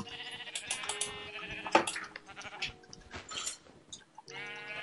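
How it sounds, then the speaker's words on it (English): Sheep bleat repeatedly in a blocky video game while being hit. The bleats are short, synthetic and overlapping, fairly close, with intermittent game sound effects around them. "I'm beating these sheep up."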